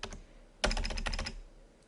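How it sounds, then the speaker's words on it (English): Fingers type a date on a computer keyboard: a short burst of crisp, close key clicks after a quiet pause, then fading back to near silence. "So let's type in the 1st of the 1st"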